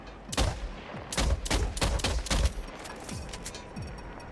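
Unsuppressed sniper rifle fire in Death Stranding 2: several sharp, loud cracks in quick succession with ringing tails, the last few shots softer and more spaced.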